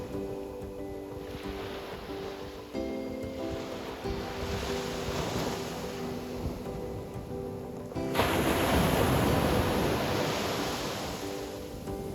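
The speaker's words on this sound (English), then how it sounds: "the waves are crashing in too" Ocean waves crash on the shore near a Bar Harbor campground in Maine, a continuous broad roar with wind buffeting the microphone that swells sharply louder partway through.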